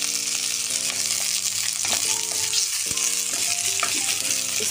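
Chopped onions fry in hot oil with a loud, constant hissing sizzle throughout. Steady musical tones play underneath, and no one speaks.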